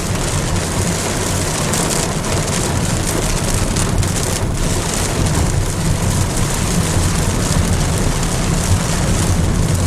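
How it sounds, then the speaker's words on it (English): Heavy rain pours steadily onto a moving car as it drives through puddled streets, a dense, unbroken roar of drumming water and road noise that stays loud and close throughout. "Wish it was raining like this back home."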